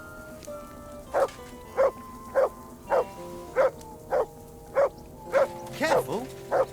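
Dog barking in Kingdom Come: Deliverance, a regular series of about ten short barks evenly spaced at moderate distance, with a low hum underneath and a whimpering yelp near the end.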